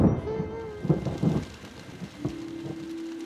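Cartoon rainstorm with steady rain hiss and low rumbling thunder, mixed with brief animated voice sounds and a held tone near the end.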